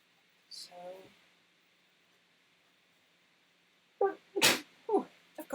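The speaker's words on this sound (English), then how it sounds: "oh, I've got to sneeze." A woman sneezes sharply during a children's drawing class, a loud burst preceded by a quick inhale, with brief speech before and after in an otherwise quiet room.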